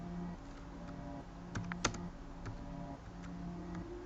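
Typing on a computer keyboard while writing HTML code: soft, close keystrokes in an irregular rhythm with one sharper clack midway, heard alone without talk.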